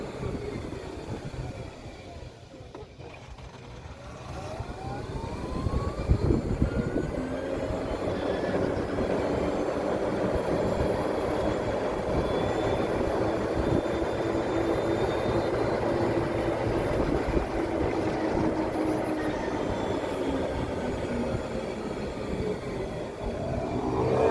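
A charcoal 2021 EZGO RXV golf cart drives at top speed, producing a steady close electric motor whine with road and wind rumble that builds slightly and holds level throughout.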